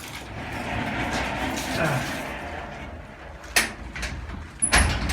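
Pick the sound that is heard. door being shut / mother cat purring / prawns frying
door being shut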